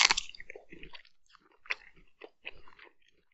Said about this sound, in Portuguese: Estou a comer uma pera.